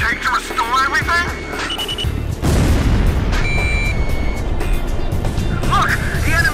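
Explosions in the Ace Combat 5 video game, a broad booming rumble that swells around two and a half seconds and holds loud to the end, with radio voices talking over the start and finish.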